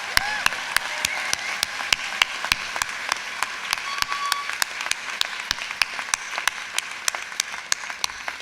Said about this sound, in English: leading a nice round of applause for you, the 2011 graduates of Pepperdine University